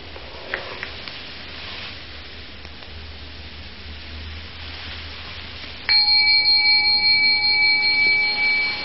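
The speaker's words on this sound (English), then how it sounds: "the bell came out of nothing, floated off, off, off, off, and then stopped being a sonic echo" A bell strikes abruptly after several seconds of hissy quiet and rings on with a bright sustained metallic tone, loud and close, fading slightly toward the end with no voices.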